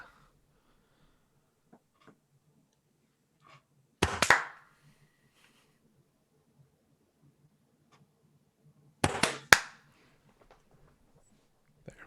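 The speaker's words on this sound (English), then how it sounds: "Now it will capture claps." Two separate bursts of hand claps, each a quick cluster of sharp, close claps, separated by several seconds of near silence.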